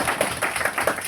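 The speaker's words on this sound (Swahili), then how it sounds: "Makofi kwake." Congregation applause for a deacon at a church service, with many hands clapping in a loud, steady patter that fills the room briefly.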